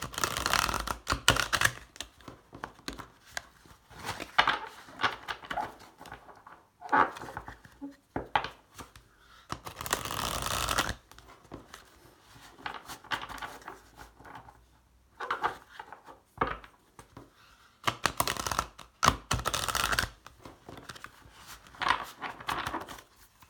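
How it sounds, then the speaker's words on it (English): Tarot cards shuffled and pulled from a deck in a quiet room, heard as close, fairly loud bursts of riffling and flapping, with brief pauses and soft taps between rounds, continuing in uneven spells throughout, with no one speaking. "pull 3 cards and find out what's going on here."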